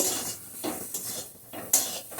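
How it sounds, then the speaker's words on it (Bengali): Cooked potol dhoka, a stuffed pointed gourd dish, is moved from a kadai onto a plate with a few sharp metal clinks and scrapes spread over a couple of seconds. "এখন থালার মধ্যে দিচ্ছি একটু ঠান্ডা করতে দেব"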